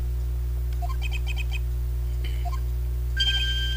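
Quick chirpy pecking blips from a woodpecker sound effect in Phoenix Wright: Justice For All, a video game, in short rhythmic bursts over a steady low hum and game tones.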